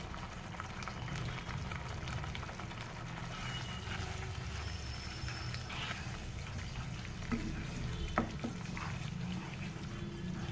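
Masala of chilli powder, coriander powder and garam masala sizzles in oil in a pan for street-cart style sundal, a steady crackling fry with occasional scrapes of stirring.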